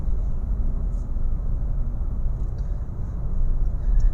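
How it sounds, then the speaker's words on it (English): Cabin of a Honda City RS e:HEV hybrid on the move, a soft steady wash of road and tyre noise with a low rumble, fairly quiet and swelling slightly near the end, no voices. "There's a little bit of road noise, but not that much."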